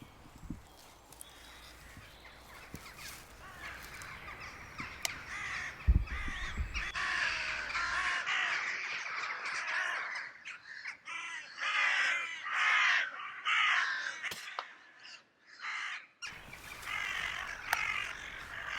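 Crows caw repeatedly at a crow shoot over decoys, a dense chorus of harsh calls at moderate distance, building in the middle and breaking off briefly before resuming, with faint thumps early on.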